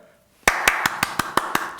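A crisp, steady run of eight hand claps in quick succession, close and sharp, starting abruptly after near silence.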